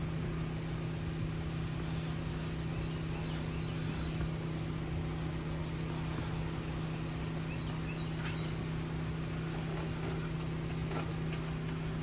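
A terry towel rubbing polish onto the bumper of a Peterbilt 359 truck, producing a steady, close scrubbing hiss over a constant low hum, uninterrupted and without speech.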